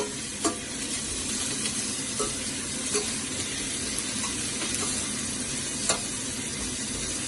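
Peppers and shrimp simmering in a pan give a continuous close sizzle and bubbling hiss, with a few faint taps of a utensil against the pan and no voices.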